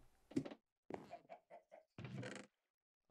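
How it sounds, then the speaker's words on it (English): Minecraft chickens in a barnyard game level clucking in a series of short, moderately loud bursts with gaps between them, and nobody speaking. "Oh, here's some chickens."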